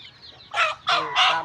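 Farmyard chickens in rural Thailand clucking in three loud, close bursts after a quieter start, with no voices.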